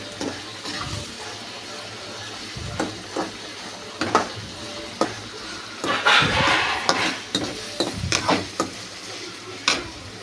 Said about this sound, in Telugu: ఇలా ఫ్రై చేస్తున్నాను నేనైతే ఆయిల్లో